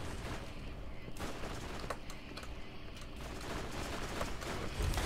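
Borderlands co-op gameplay gunfire on a research space station, a dense steady stream of shots running the whole time under a constant bed of game noise, with no clear pauses.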